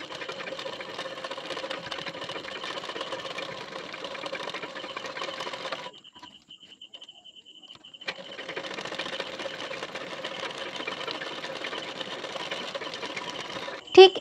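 A sewing machine runs steady stitching along the edge of a belt part, pausing for about two seconds midway before whirring again, then ending with a brief sharp clack.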